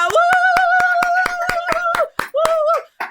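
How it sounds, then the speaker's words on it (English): A studio audience claps during a talk show in steady, rhythmic unison, about four claps a second, under a sustained shouted or sung tone that breaks off near the end. "Let's clap in the studio."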